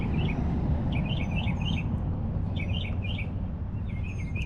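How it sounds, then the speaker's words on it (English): Mockingbirds sing from an electrical stand beside a fence, their bright chirping phrases repeating in short bursts every second or so over a steady low outdoor rumble. "Some mockingbirds up here on this electrical stand"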